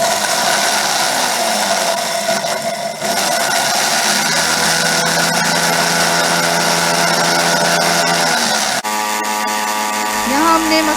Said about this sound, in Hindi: यहाँ हमने मसाले को जो है ग्राइंड कर लिया है, बारीकी से पीस लें।